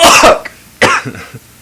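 Two harsh coughs, the first a quick double burst and the second a single hack about a second later, close and loud with faint rustle between.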